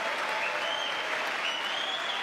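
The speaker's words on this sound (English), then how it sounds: "There's like 5 of them clapping." Steady, dense applause from Democratic members of Congress during a presidential address to Congress, a continuous clapping roar heard alone without talk.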